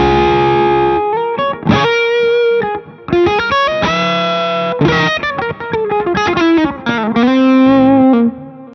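A Gibson ES-335 electric guitar plays a dark, overdriven lead line, single sustained notes and quick phrases with distortion and a touch of chorus-like shimmer, loud and alone with short gaps between phrases.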